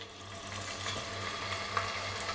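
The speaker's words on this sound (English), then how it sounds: "take your pieces of meat and we're gonna let them sizzle" Pieces of meat sizzle in hot peanut oil in a pan, a steady close crackle with faint stirring.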